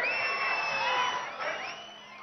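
A crowd at a political rally in Telangana cheers with whoops and shrill whistles, a loud dense swell that eases slightly toward the end.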